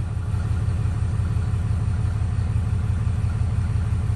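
A Ram 4th-gen Cummins 6.7 diesel truck engine idles steadily, its low, even rumble running unbroken and close for the whole stretch.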